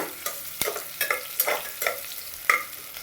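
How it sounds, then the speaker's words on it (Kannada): Spices and curry leaves frying for sprouted moth bean sambar, a spatula scraping and knocking the pan in a loose rhythm of sharp strokes over a low sizzle, close by and without talk. "ಹಸಿ ವಾಸನೆ ಹೋಗೋ ತನಕ ಫ್ರೈ ಮಾಡಬೇಕಾಗ್ತದೆ."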